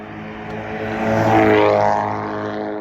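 A loud car passes close by on a street, its engine and tyre roar swelling to a peak around the middle and then easing off, with no talking over it.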